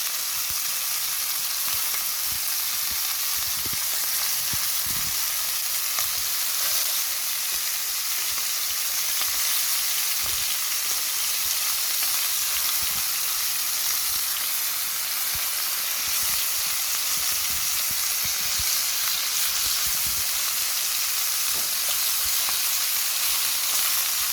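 Steady, dense sizzling of hot oil in a frying pan, continuous and fairly loud throughout with occasional crackles and pops, no voices.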